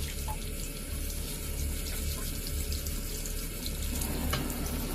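Tap water runs steadily into a home fish tank being set up for two pet fish, a continuous close splashing rush that stays even from start to end.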